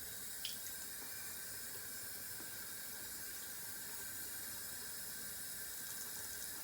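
Tap water runs steadily into a sink while a razor is rinsed during a beard shave, a constant close hiss with a faint clink near the start.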